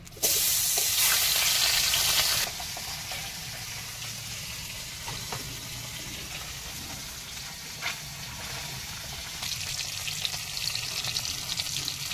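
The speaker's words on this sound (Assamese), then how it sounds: "এইটো ইয়াতে ভাজি" Fish sizzles and crackles loudly in hot oil, a bright burst at first that settles into steady, close frying with occasional pops.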